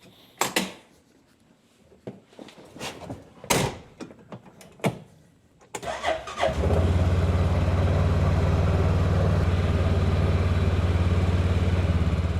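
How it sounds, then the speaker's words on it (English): A few clunks and rattles, then an engine starts and settles into a steady, loud idle, a side-by-side utility vehicle rumbling continuously nearby. "So just at idle, this machine is almost as loud as the electric one ripping up the hill."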